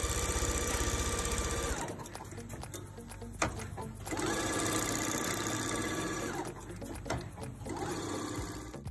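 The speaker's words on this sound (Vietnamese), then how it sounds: "Lại là công việc quấn dây đồng ở một level vũ trụ." A machine winds copper wire at high speed, giving a loud continuous whirring buzz that drops out briefly twice and then resumes, with short mechanical clatters in between.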